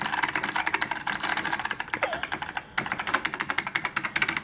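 Typing on a white SolidTek ASK-6600 keyboard with ALPS mechanical switches: rapid, clattering keystrokes up close, with a brief pause partway through before the steady tapping resumes.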